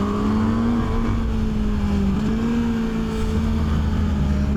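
A QJ Motor SRK 921 motorcycle engine runs loud and close on a test ride, holding a steady, slightly wavering drone with a faint rise and dip in pitch but no sharp revving.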